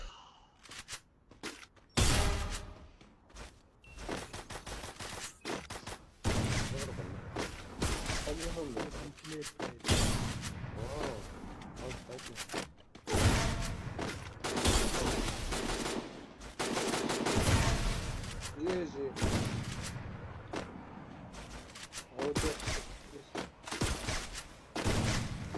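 Sniper rifle fire in a battle royale video game, heard as repeated loud shots and bursts of gunfire across the clip, with game effects and voices mixed in throughout.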